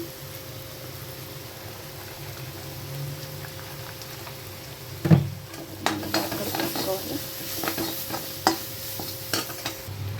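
Paneer fried rice stir-fried in a pan as paneer masala goes in, with steady low sizzling broken after a few seconds by loud scraping stirs and clattering spoon strikes.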